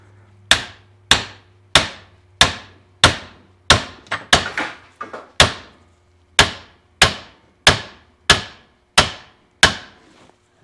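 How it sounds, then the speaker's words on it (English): A brass hammer drives a part into a Farmall Super M tractor engine during a camshaft and governor rebuild, striking about fifteen sharp, close, evenly spaced blows with a brief flurry of lighter taps midway. "So have to drive this in now. I'll just use a brass hammer."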